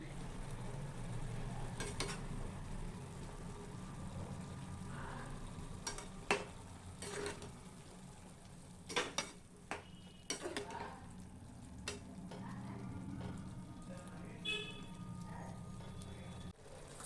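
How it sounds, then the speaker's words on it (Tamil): Boiled yam is stirred into masala over a medium flame, with a low, quiet sizzle underneath and a scattered series of sharp spoon clinks and scrapes against the pan. No voices are heard. "இதில் வேக வச்ச சேனக்கிழங்கை சேர்த்து நல்லா கலந்து விட்டுட்டு மீடியம் ஃப்ளேம்லேயே இதை குக் பண்ணிக்கலாம்"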